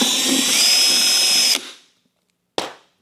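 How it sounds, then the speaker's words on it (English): A power drill bores a quarter-inch hole in a wash bucket dolly handle, a steady high whine for about a second and a half that stops abruptly, followed by one short burst. "And then we're going to drill our next 1/4 inch hole."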